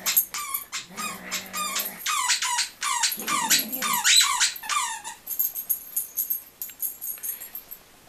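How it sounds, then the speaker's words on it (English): A dog plays with a squeaky chew toy, making rapid bursts of sharp, close squeaks in quick rhythmic runs that thin out toward the end. "Pia keeps himself amused as long as it squeaks."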